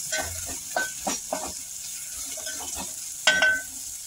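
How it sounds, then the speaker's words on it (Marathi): Onion sautés with ginger and garlic in a pan for Marathi batata kachori: a soft sizzle broken by a few separate scraping strokes of the spatula, plus one louder scrape near the end, with no talk. "कांदा पण चांगला परतून घेऊया."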